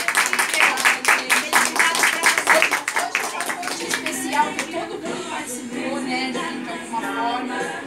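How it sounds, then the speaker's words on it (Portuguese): Guests at a Brazilian wedding celebration clap in a burst of applause that fades out after a few seconds, while people talk over and after it. "Aplausos a todos vocês."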